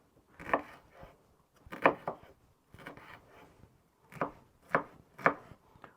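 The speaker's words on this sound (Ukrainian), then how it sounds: "Беремо велику цибулю, ось я її почистила, і будемо міленько її кришити мілким кубіком" A knife finely dices a large peeled onion into small cubes on a wooden board for chicken cutlets, with bursts of quick rhythmic chopping strokes in several close, crisp clusters.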